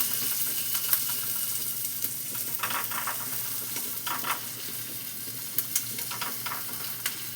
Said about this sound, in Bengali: কুচনো পেঁয়াজটা দিলাম।